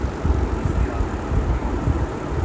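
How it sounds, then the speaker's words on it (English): An airplane comes in to land in the video game Gangster Vegas, a steady rumbling engine drone with low pulsing throb throughout. "park my aeroplane right away. Slow down. Just come down."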